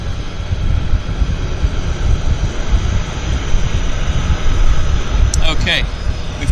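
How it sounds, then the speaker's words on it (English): A Twin Otter floatplane taxis at Vancouver Harbour, its steady droning engine roar continuous and fairly close over wind noise, with a brief higher whine near the end. "we've got a twin otter taxiing out for us right now"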